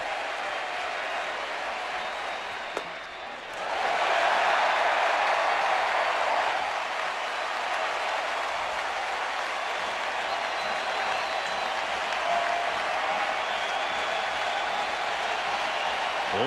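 A baseball stadium crowd at a 2007 Indians playoff game stands and cheers, a broad sustained roar that swells after a brief dip and then holds at a high level throughout.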